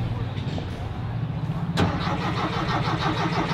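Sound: 1961 Chevrolet Impala wagon engine cranking with weak battery

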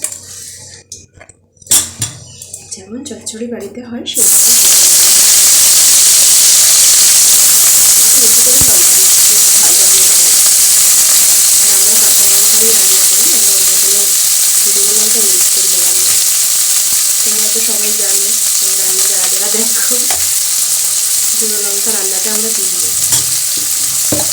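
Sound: onions sizzling as they fry in oil

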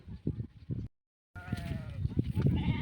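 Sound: sheep bleating

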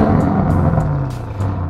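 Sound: Audi RS6 C8 V8 engine running

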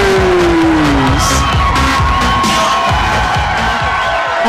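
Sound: MMA event crowd applauding and cheering

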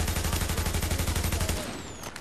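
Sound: AUG rifle gunfire in the video game The Division

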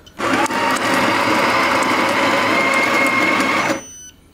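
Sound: espresso machine making espresso

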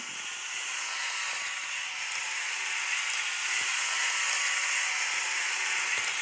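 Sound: vacuum cleaner running noisily, Avatar World video game

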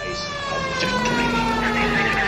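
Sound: police car siren in video game LA Noire

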